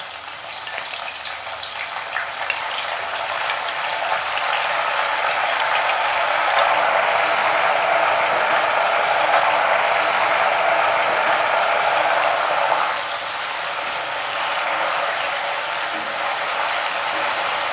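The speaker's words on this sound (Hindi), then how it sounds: "ये देखिए तेल में बबल्स बहुत ज़्यादा बन रहा है।" Banana slices frying in hot oil just after a salt-turmeric water mix is poured in, giving a dense, steady bubbling sizzle that swells loudest midway and then eases slightly toward the end.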